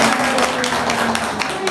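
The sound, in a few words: audience clapping hands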